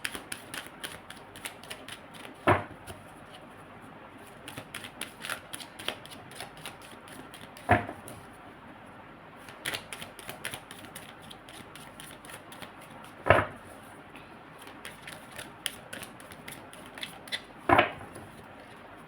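Tarot cards shuffled by hand during a card reading, with repeated soft riffles and a few sharper snaps and taps scattered across the stretch, close and fairly quiet, with no talking.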